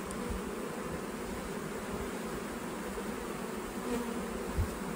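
Honeybees buzz around an open hive after snow, a soft, even drone of many wings that stays low and continuous, with a brief closer pass near the end.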